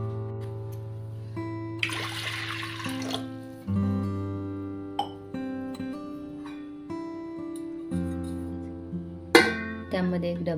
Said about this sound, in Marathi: कुकरमध्ये पाणी घालून